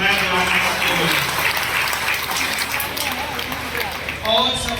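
A seminar audience breaks into loud, continuous applause filling the hall, with voices and murmurs mixed into the clapping.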